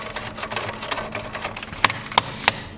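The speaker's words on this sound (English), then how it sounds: "So, let's unscrew these guys out." Heatsink screws are unscrewed inside a Dell Optiplex 9020 small form factor desktop: a quick mechanical whirring buzz from a driver, followed by three sharp metallic clicks, close and fairly quiet with no talking.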